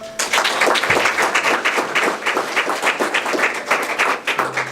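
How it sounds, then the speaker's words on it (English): Sustained applause from a crowd for a panel at an opening bell ceremony, dense and steady clapping filling the whole stretch without pause. "I think my distinguished panel here deserves a huge round of applause."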